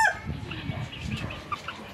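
A young black rooster, about two months old, gives a brief call at the start over a busy, noisy background of rustling and movement, with no talk.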